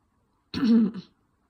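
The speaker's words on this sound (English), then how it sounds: "Cough." One short, throaty cough close to the mic, with silence on either side.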